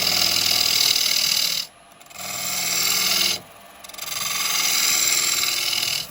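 A bowl gouge cuts into a wooden bowl spinning on a woodturning lathe, producing a loud, bright rasping scrape in three long passes separated by two brief pauses where the tool lifts off.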